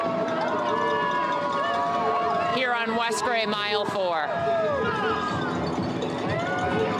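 Houston Half Marathon runners patter past on West Gray at mile 4 in a dense, continuous stream of footsteps, mostly under a close voice talking, with a cheering crowd in the background.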